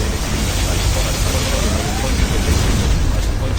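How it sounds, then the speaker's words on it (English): A particle cannon blast from Command & Conquer Generals roars as a loud, steady wash of crackling energy that holds at full strength without a break. "General, our enemy is using their particle cannon."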